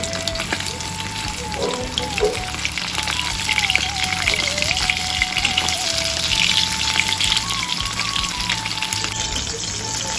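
Hilsa fish fries on a griddle with a dense, loud, continuous crackling sizzle, close up, with a faint wavering tonal hum running underneath.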